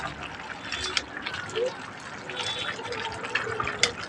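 Fish-head and sweet-pumpkin curry boiling in a covered pot, with close, irregular bubbling and gurgling and a few small pops throughout.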